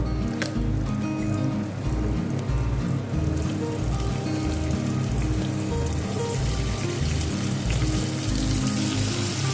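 Chopped onions and dried fish fry in hot oil, giving a loud, steady, dense sizzle that fills the whole stretch with no speech.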